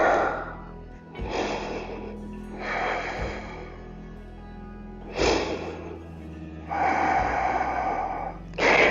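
Deep breaths during a whole-body yoga session: several slow, loud inhales and exhales close to the microphone, each a long airy rush separated by short pauses, with no talking.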